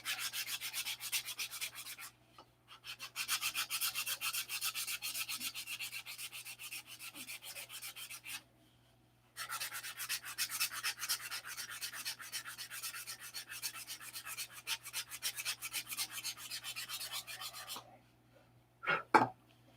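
Balsa wood being sanded by hand with 180 grit sandpaper, a close, steady, fine rasping in long bursts that stop twice for short pauses, with no talk.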